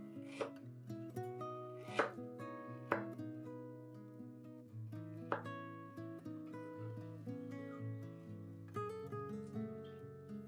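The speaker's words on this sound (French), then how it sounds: "Commençons par le gingembre, qu'il faut éplucher en grattant avec la lame du couteau par exemple, puis le découper en lamelles." A knife slices peeled ginger on a board in a steady series of close taps, each cut sounding clearly over soft background music, with no talking.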